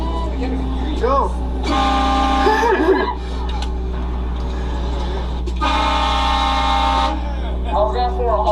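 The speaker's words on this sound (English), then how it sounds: "How's that for a honk?" A loud train horn sounds in two long, sustained blasts in the middle of the stretch, under people talking and reacting.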